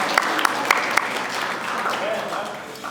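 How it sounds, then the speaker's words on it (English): Wedding guests applauding at a reception, a few sharp close claps over a broad wash of clapping that fades, with talking and chatter mixed in underneath. "let's give Rose another round of applause here, everybody"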